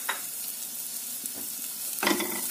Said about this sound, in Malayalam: അതിനെ നന്നായിട്ടൊന്ന് വഴറ്റിയെടുക്കണം.